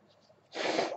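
A person with a cold blows their nose: a short, loud, breathy honk after a half second of quiet, close to the microphone.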